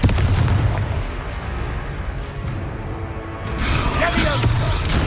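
Confringo blasting spell cast in the Hogwarts Legacy video game, a dense run of loud, booming blasts and crackling impacts that swells again toward the end, with no talk.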